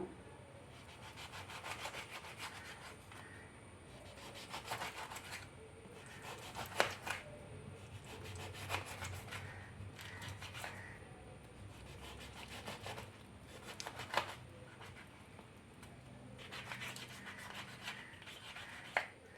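Wild lemon (vadukapuli naranga) is sliced with a knife on a cutting board for pickle. Repeated soft chopping and scraping strokes come in steady bursts, close and quiet, with no speech.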